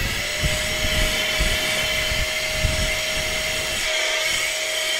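Loud, continuous high-pitched whine of a rechargeable electric air duster blowing dust, steady motor drone with a sharp tonal pitch throughout.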